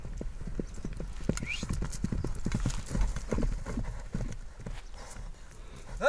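A horse trained for ulak galloping, rapid hoof clip-clops thudding in uneven bursts close by, with a short whinny and faint voices in the background.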